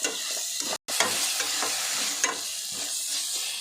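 Spices for carrot rice are mixed in a hot pan, giving a loud steady sizzle with scraping stirs, briefly cut by a moment of silence early on.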